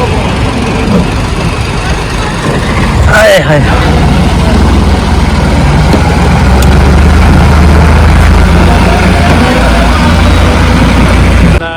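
A tractor hitched to a trolley loaded with bags idles nearby with a loud, continuous low rumble as people talk over it.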